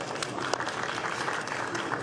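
Steady applause fills the Senate chamber, many hands clapping at once in a dense, continuous patter at moderate distance, lasting a couple of seconds.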